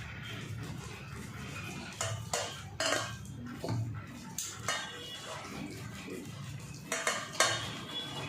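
Bael fruit pulp, full of seeds and fibres, being pressed and strained through a kitchen sieve, giving soft scraping and scattered clinks of a spoon against the metal mesh and bowl, close and fairly quiet, with no talk.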